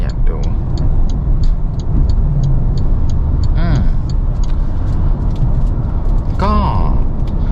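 Inside a Maxus 9 top-trim V van driving in normal mode, a steady low road and engine rumble runs throughout, with a couple of brief voice-like sounds over it.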